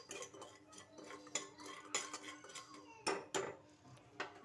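A spoon stirring food briefly in a frying pan, with a quick series of clinks and scrapes of utensil against metal, close but quiet, in an irregular rhythm.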